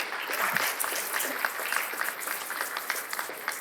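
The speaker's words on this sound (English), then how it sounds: "Please, can we give Dr. Jamil a big round of applause?" An audience claps for a speaker at a census talk, a moderately distant, continuous patter of many hands that holds steady for the whole stretch.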